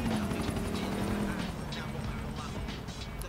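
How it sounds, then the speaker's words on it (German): A helicopter flies in the video game GTA 4, its steady rotor whir and drone running throughout under someone talking. "Wo ist der Helikopter hin?"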